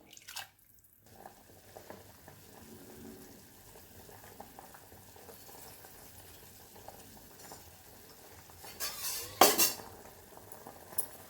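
Rice and cowpeas in water are stirred in a pot, with soft scraping and sloshing over a quiet simmer, then a louder burst of clattering and splashing near the end.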